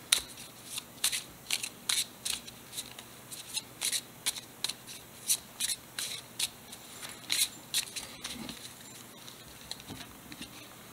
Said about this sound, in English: let's get these cards all nice and shuffled.